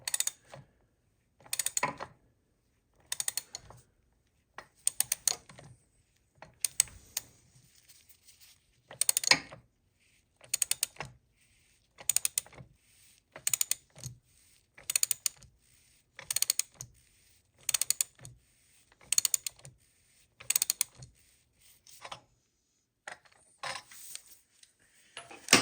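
Ratcheting wrench or socket turning in short increments to remove a cam bearing from a Harley-Davidson Evo engine, a series of separate mechanical clicks and ratchet bursts spaced through a quiet garage.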